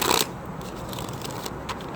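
Tarot cards being shuffled by hand close up, with a quick papery burst at the start followed by soft, continuous rustling and scraping of the deck.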